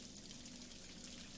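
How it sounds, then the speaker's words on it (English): Hot water running from a sink in BioShock Infinite, a faint, steady hiss of pouring water heard alone for a brief moment. "Use the sink. Oh, that's hot water."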